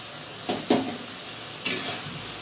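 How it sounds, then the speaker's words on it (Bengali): Fried puti fish are stirred in a hot pan with a steady low sizzle, broken by two quick scraping stirs near the start and one more later, heard close with no talking. "খুব সাবধানে নাড়তে হবে, না হলে সবগুলোর থেকে মাথাগুলো আলাদা হয়ে যাবে।"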